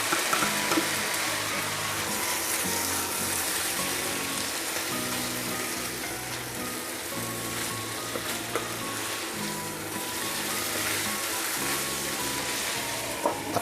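Scrambled eggs fry steadily in a pan, a constant close sizzle with faint crackles that runs unbroken throughout, with no voices.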